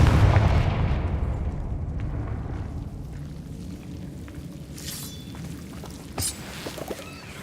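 A Confringo blasting curse explodes in the video game Hogwarts Legacy, a loud deep boom at the start that rumbles and fades over several seconds, followed by small scattered pops and crackles.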